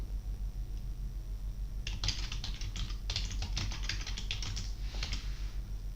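Quick, uneven bursts of computer keyboard typing as a password is entered, soft close clicks in short runs over a low steady room hum, with nobody speaking.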